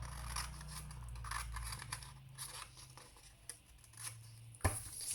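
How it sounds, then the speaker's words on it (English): Scissors cut through sheets of folded paper, making repeated crisp snipping and rustling sounds over a steady low hum, with a sharper snip near the end. "cut both of those pieces of paper"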